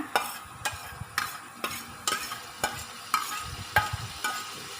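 Garlic stir-frying in a pan, with a spatula scraping and tossing in a steady rhythm of sharp strokes about twice a second over a continuous close sizzle; no talking.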